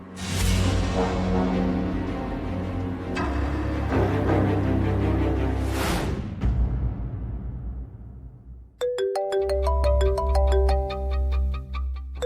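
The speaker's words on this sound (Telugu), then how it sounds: "ఈ టైంలో సిఐ కాల్ చేస్తున్నాడేంటి?" A phone ringtone for an incoming call sounds in a Telugu TV drama scene, rising as a tonal electronic melody that takes over from dramatic background music near the end.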